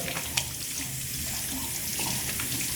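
Water runs steadily from a tap into a sink while hands are rinsed, a close, continuous splashing hiss with slight shifts as hands move under the stream.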